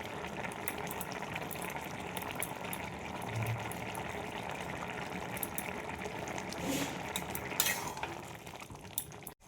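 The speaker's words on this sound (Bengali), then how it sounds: "কারি পাতা দিয়ে দিলাম।" Curry leaves crackle in a pan of ghee for a breakfast porridge, giving a soft continuous sizzle with light stirring scrapes, fairly quiet and close, and a brief louder clatter near the end.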